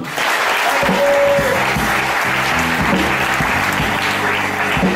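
Loud congregation applause fills a church service, many hands clapping in a steady dense wash, with voices and music faintly underneath.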